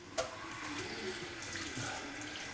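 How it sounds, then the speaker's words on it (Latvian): Tap water runs steadily from a faucet, a soft continuous broadband wash at close range with a faint click at the start, heard alone with no talking. "Augstais ūdens, kas tek pa krānu."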